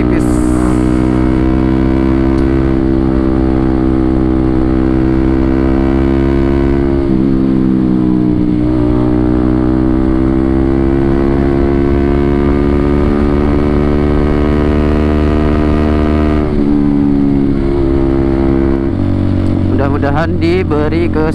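Motorcycle engine on a solo Sunday-morning ride in Indonesia, running close and loud throughout with gentle throttle blips and shifting pitch as the rider eases on the gas, ending in a brief rise in revs.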